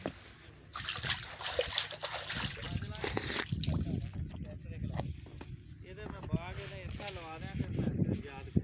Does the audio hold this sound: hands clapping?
no